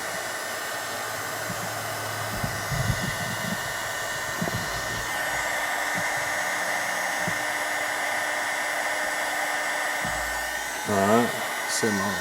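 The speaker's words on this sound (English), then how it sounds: "you can go ahead and start the heat shrink, and you'll see that melt" A heat gun blows a steady, close whooshing hum while shrinking heat shrink tubing over wiring for blinker lights on a Honda Pioneer 1000, with a few low handling bumps and thumps.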